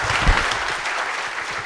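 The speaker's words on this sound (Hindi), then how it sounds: "एक बार जोर से तालियां" Audience applause at a college induction talk, a dense burst of many hands clapping at once, loud and close, holding steady for the whole moment.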